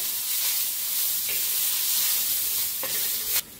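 Green chilies and peanuts roasting in a hot pan, giving a loud, continuous sizzle with occasional scraping stirs, close up and without talk.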